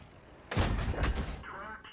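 An artillery shell from a World of Tanks self-propelled gun lands with a sudden loud blast, its broadband roar holding about a second before tailing off into a crackling, rumbling decay.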